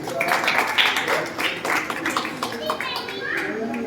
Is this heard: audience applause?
yes